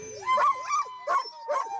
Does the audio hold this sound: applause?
no